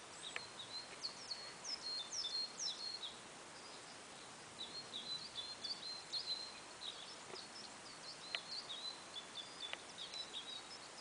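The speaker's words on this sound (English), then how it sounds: "Can you hear the birds?" Birds singing in a warm forest, with repeated high chirps and short song phrases coming in bursts over a steady outdoor hiss, moderately distant and soft.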